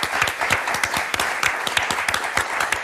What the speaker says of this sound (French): Damien, Sonia, on vous applaudit très fort.